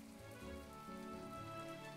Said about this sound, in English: I guess I'll just walk in the rain.